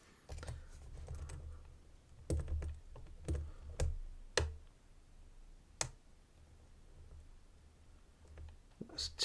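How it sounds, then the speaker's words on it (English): Lock pick working past the pins of a Ruko Serie 1200 lock, giving sparse, sharp little clicks and ticks at close range in a quiet room. "going back through the pin 6 there, a little click"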